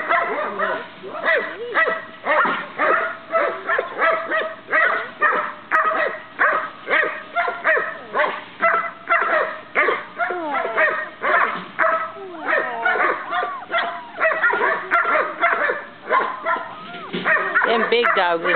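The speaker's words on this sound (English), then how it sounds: "Them big dogs is making too much racket, aren't they?" Large dogs bark over and over in a steady, rhythmic stream, loud and close, with a few higher yips mixed in near the end.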